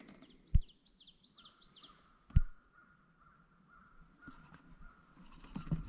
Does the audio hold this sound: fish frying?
no